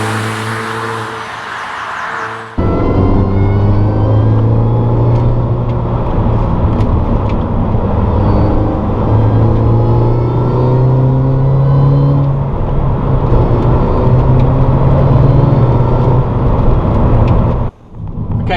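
A Mini Cooper Works GP engine droning steadily while driving, its pitch rising and falling through gear changes, loud and close inside the cabin, with road and wind noise under it and a brief drop near the end.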